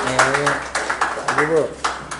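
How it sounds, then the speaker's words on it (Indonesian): A small group claps for a recipient at an aid handover ceremony, sparse uneven hand claps under a voice speaking throughout. "mari kita berikan tepuk tangan yang meriah"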